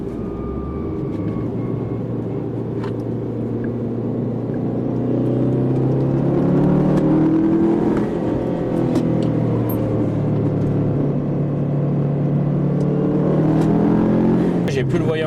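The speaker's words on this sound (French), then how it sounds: "c'est marrant l'admission comme tu l'entends" A car's engine intake roars and drones steadily from inside the cabin while driving, a loud sustained rumble that swells as it accelerates, with the driver talking over it.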